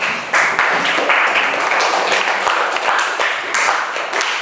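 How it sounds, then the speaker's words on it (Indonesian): A class of automotive engineering students claps for a classmate who earned the top score, uneven, moderately loud clapping from a small group in a room, steady throughout. "beri tepuk tangan untuk Mas Peren"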